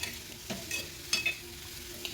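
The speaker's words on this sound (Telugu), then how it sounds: "అంతా మిక్స్ అయ్యేలాగా ఒకసారి బాగా మిక్స్ చేసేద్దాం" Tamarind, turmeric and rock salt being stirred together in a pan, with soft scraping strokes and a low frying sizzle, a few louder scrapes standing out over about two seconds.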